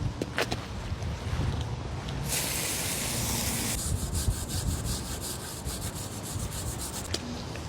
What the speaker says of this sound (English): we're gonna scrub them down and see if we can make them look a little bit nicer